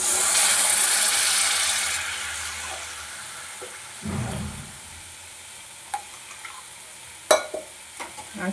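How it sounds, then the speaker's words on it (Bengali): Water splashes into a pan of spice paste fried in oil for rohu fish curry, a loud hissing sizzle at first that dies down to quieter bubbling, with a few soft clinks of a utensil. "এবার এর মধ্যে দিয়ে দেবো জল।"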